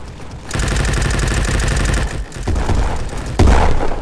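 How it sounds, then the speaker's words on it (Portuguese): Combat in the Bad Business video game: grenades and gunfire form a sustained, loud rapid-fire stream, with a heavier blast near the end. "é granada pra tudo que é lado"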